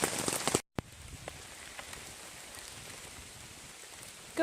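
Rain falls in the woods along the Appalachian Trail near the Delaware Water Gap, a soft, steady hiss of drops on surfaces after a brief louder knock at the start, faint and unbroken.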